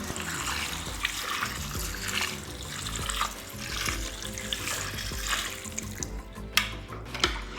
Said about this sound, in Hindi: गाजरें हमारी सॉफ्ट होनी शुरू हो गई हैं, अब हम इनमें दूध डालेंगे।